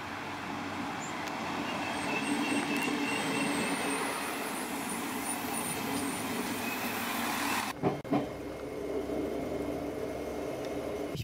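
A regional train on the Zenngrundbahn line at a German station, a steady rumbling roar held for several seconds before cutting off abruptly into quieter ambience with a couple of brief knocks.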